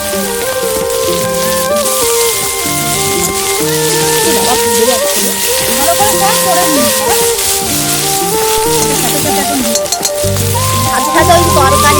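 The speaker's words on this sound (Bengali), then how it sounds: "আর আমি এখান থেকে খুন্তিটাকে হালকা করে নাড়িয়ে দেবো, খুন্তিটা দিয়ে।" Vegetables sizzle steadily in a pan at an outdoor winter family picnic as a spatula stirs them, a continuous crackling fry running throughout with voices talking over it.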